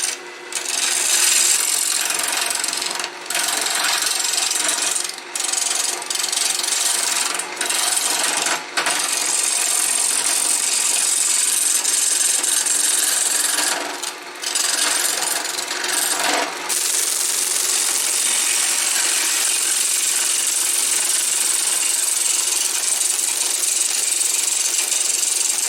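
A power tool works wood stock for turning hanging ornaments, throwing sawdust in a loud, continuous, harsh grinding roar that runs nearly unbroken, with a few brief dips.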